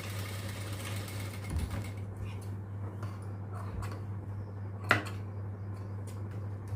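A sewing machine runs a lock stitch on a baby frock, a faint steady motor hum with a few light mechanical clicks and knocks, heard quietly while someone talks.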